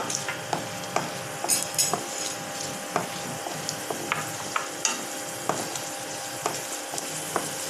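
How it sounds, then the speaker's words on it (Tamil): Mustard seeds, urad dal and chana dal fry in hot oil, a soft continuous sizzle dotted with small pops and light clicks of a utensil against the pan, close and without voices. "கடுகு பொரியட்டோன்னு உளுத்தம்பருப்பு, கடலைப்பருப்பு இவை அனைத்தையும் சேர்த்து கொஞ்சம் மெதமாக செவக்கிற வரலும் வெயிட் பண்ணலாம்"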